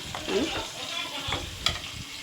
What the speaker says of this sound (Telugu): ఇలా ఫైన్గా కలిపేసుకోవాలి